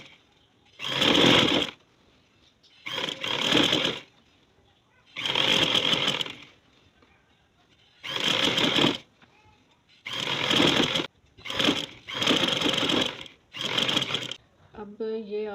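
Electric sewing machine stitching a trouser seam, running in repeated bursts of a second or so with short pauses between, close and fairly loud, quickening into shorter runs toward the end.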